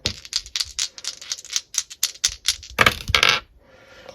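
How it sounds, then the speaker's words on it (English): Astrology dice rattle in a hand in a quick run of sharp clicks, then are tossed and land in a brief louder clatter before going quiet. The sound is close and there is no talking. "I'm going to roll the Astro dice first"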